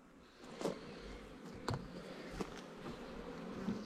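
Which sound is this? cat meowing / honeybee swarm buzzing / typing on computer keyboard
honeybee swarm buzzing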